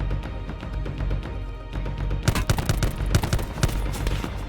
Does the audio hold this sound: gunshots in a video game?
yes